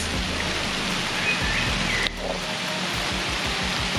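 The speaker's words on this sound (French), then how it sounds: "il pleut et c'est cool" Steady rain pattering on a surface at a fishing spot, a continuous broadband hiss with no voices and a brief dip partway through.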